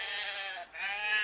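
A single sheep bleats twice in a short burst, the call wavering and briefly breaking in the middle, close and fairly clear, with farm animals implied and no talk.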